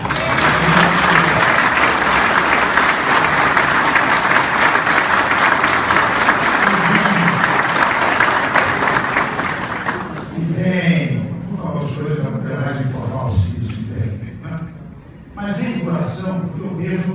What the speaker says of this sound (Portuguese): Aqui são palmas verdadeiras que vêm do coração.